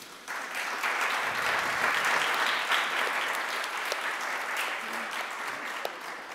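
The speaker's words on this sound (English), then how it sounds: "A round of applause for them, please." A conference audience applauds a panel in steady, sustained clapping that fills the room at an even level for several seconds, with no talk over it.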